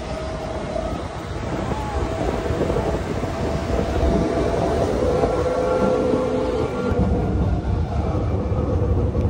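Train noise at Chhatrapati Shivaji Maharaj Terminus in Mumbai: a steady, fairly loud rumble of rail traffic and station ambience running the whole time, with a brief dip near the end and no one talking.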